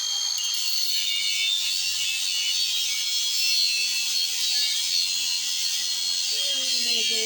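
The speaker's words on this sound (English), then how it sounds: "Take a cutting disc and an angle grinder." An angle grinder with a cutting disc cutting metal in a forge workshop, a steady loud high-pitched whine held throughout with a faint low hum beneath.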